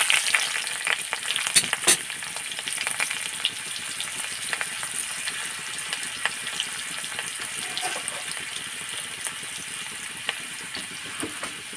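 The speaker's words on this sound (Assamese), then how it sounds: "সেই একেখন কেৰাহীতে এয়া ভাজিব লৈছোঁ। পিঁয়াজ অলপ দি দিছোঁ।" Onions sizzle and crackle in hot oil in a wok while cooking fish curry, a steady hiss broken by sharp spatters and the scrape of stirring.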